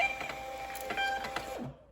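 A thermal label printer runs steadily while printing a shipping label, a continuous mechanical whir with faint ticking and small clicks, then stops abruptly near the end.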